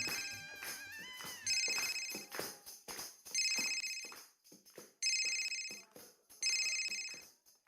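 A phone rings repeatedly in regular electronic bursts, moderately loud and near, with a person talking at the start and between some of the rings.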